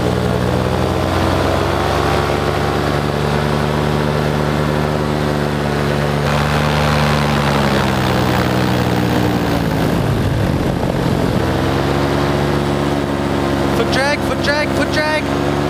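Paramotor engine and propeller drone steadily through a flight, loud and close with a sustained buzzing hum that dips briefly midway, while a person talks over it.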